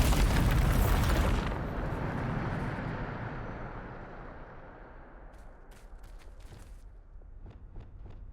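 A Bombarda spell explodes in the Hogwarts Legacy video game, a loud booming blast that rolls into a long fading rumble, followed by a few faint ticks and pops.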